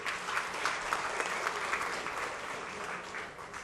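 A steady round of clapping fills a formal solemn session honoring a guest for a club's centenary, dense hands from a seated audience holding even and loud throughout.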